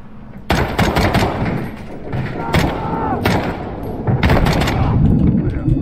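Rapid bursts of gunfire in the Dark Water mission of the Call of Duty Modern Warfare II (2022) campaign, loud sharp volleys in several clusters over a background of in-game radio chatter and voices.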